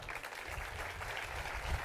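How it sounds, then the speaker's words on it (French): An audience claps warmly for a man named Joël at a political gathering, a short, steady wash of applause heard at a modest, somewhat distant level. "je vous demande de l'applaudir chaleureusement"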